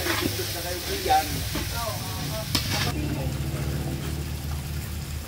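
Food is sautéed in a pan at an outdoor birthday feast in the province, with a close, steady sizzle and stirring scrapes while people talk over it.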